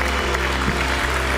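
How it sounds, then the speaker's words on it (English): A church congregation claps together, a dense steady wash of applause from a crowd with faint musical tones underneath, continuous and fairly full throughout. "The rest of the congregation is going to clap louder than they've ever clapped"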